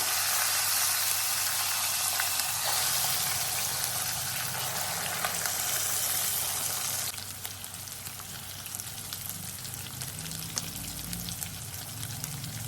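Grated raw mango chutney with curry leaves hissing as it fries in hot oil in a pan. A steady, loud sizzle that eases a little partway through, with faint scraping and no voices.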